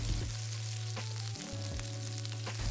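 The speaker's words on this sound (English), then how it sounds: "stir fry red curry paste in some vegetable oil on medium heat" Red curry paste stir-fried in vegetable oil over medium heat, a steady close sizzle with a few soft scrapes of stirring, no voices.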